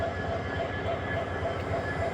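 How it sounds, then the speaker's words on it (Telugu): The weekly Secunderabad–Agartala train sits at a station, giving a low steady rumble with faint rhythmic clatter, quiet and continuous with no voices. "11 గంటల లేటుగా వచ్చిన ట్రైన్ ఇక్కడ ఇప్పుడు 3 గంటల నుంచి ఆగింది"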